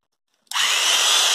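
Japanese domestic 100V electric hammer drill starting up after silence, a sudden loud, steady high-pitched whirring drone that runs continuously to the end, close and alone.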